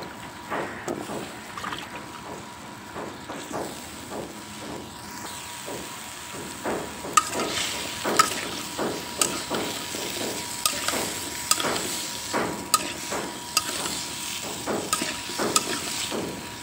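Radishes added to fried spice masala and stirred in a pan, a steady close sizzle broken by repeated scraping strokes of a spoon over a long stretch.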